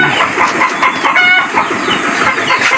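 Chickens clucking close by in a coop, several laying hens calling over each other in a busy, continuous chatter with a higher squawk partway through.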